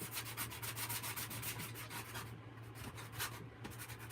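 Sandpaper rubs back and forth over a painted wooden sign with buffalo check, a steady run of quick scratchy strokes close up, with no one talking.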